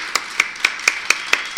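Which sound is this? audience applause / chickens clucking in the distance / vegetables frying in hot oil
audience applause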